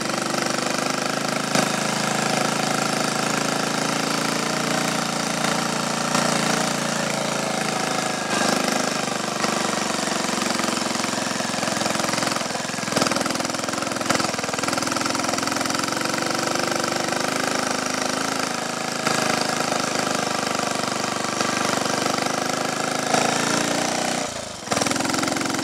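A Triumph Tiger Cub trials motorcycle, unused for years, runs steadily close by, its single-cylinder engine droning loud and continuous with small shifts in pitch, and a brief dip near the end.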